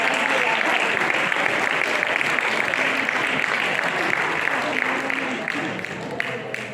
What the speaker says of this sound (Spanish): Un aplauso a él.